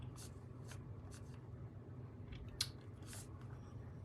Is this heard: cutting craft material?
yes